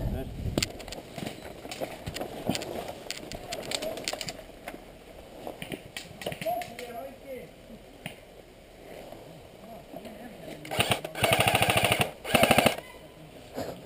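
Airsoft guns crack in rapid bursts during an outdoor capture-the-flag game, scattered single pops early and denser full-auto strings near the end, with players talking throughout.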